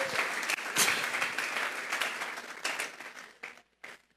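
A church congregation gives a sustained round of applause as an offering of praise during a sermon. The clapping is dense and steady, then thins into a few scattered bursts before it fades out.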